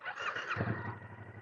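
A 2025 Yamaha Tracer 7 motorcycle with stock exhaust, still in break-in, cranks and catches, settling into a low, throbbing idle nearby.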